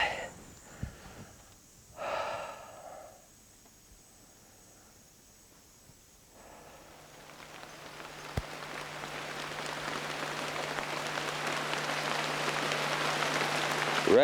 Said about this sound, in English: Rain come down and rain protects me.